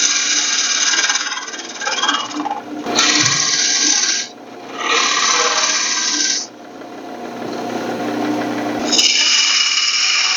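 A woodturning lathe cutting a branch blank, squaring the end and forming a tenon at the tailstock end: loud, raspy tool-on-wood scraping in several bursts separated by brief pauses, over the motor's steady hum.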